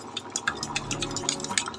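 Vegetable kurma gravy bubbles in a pot on the stove, a close, steady stream of soft pops and liquid blips.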